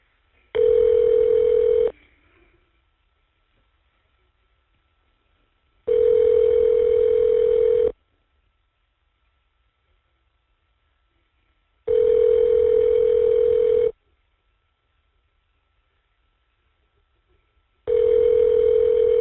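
Ringback on an EverCom inmate phone call: four evenly spaced long ring tones, each about two seconds, separated by roughly four seconds of silence, loud and clean on the line.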